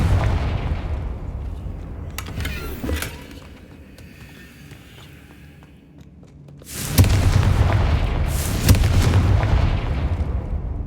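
Confringo fire-spell blasts in the video game Hogwarts Legacy, heavy booming explosions with rumbling low end, one burst around the start, then a quieter lull before a loud renewed barrage with sharp cracks.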